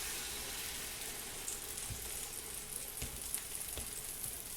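French toast frying slowly in a pan over low heat, a soft steady sizzle with faint occasional pops and crackles throughout.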